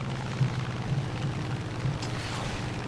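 Rockets fire from an American aircraft in War Thunder: a series of deep, rumbling booms come in quick succession over steady engine drone, fairly loud and close.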